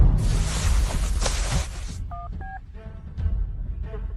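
A phone number is dialed, with a few short keypad tones after a burst of noise, close and fairly clear, with no talking.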